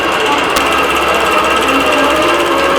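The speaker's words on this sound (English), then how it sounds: "The machine is stitching." Computerized embroidery machine stitching a feather design, giving a loud, steady rapid mechanical chatter of the needle close by, with one sharp click early on and a constant hum beneath.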